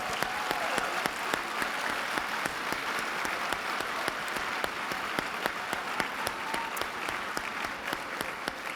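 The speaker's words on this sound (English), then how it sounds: "I love that y'all are now excited to applaud" A keynote audience at a large conference applauds steadily, dense clapping close and loud with sharp individual claps standing out, continuous for about nine seconds without speech.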